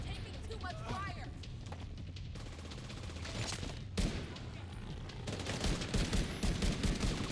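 Gunfire in The Division 2, sustained crackling shots and bursts building toward the end under a voice talking, with dense combat noise throughout.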